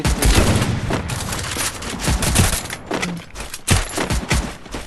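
Rapid gunfire in a shooting video game with a squad fight, dense overlapping bursts of shots and booms filling the whole stretch, loud and continuous with brief dips between volleys.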